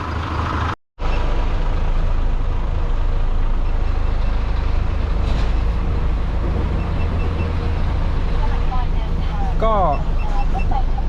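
A trailer truck reverses under its 75-year-old driver, its loud diesel engine rumbling steadily and close by. The sound cuts out briefly near the start, and faint high chirping tones come in near the end.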